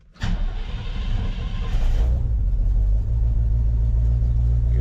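A vintage Chevy C10 pickup, dry carburetor primed with a squirt of gas after sitting 33 years, cranks and catches, then settles into a steady, loud, low rumbling idle close by.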